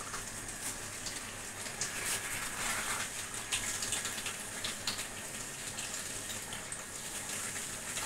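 Water is poured into a pot of simmering meat curry to make a thin gravy, a steady broadband gushing and splashing that runs evenly throughout at moderate level with no talk.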